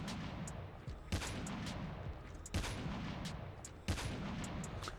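Arctic 50 sniper rifle in Call of Duty fires three heavy, evenly spaced shots over a steady background of in-game battle noise and scattered distant gunfire, with no voices.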